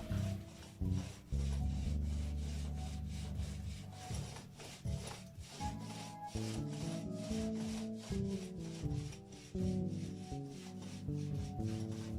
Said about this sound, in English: By the time all the sanding and retouch-ups and then sanding some more was completed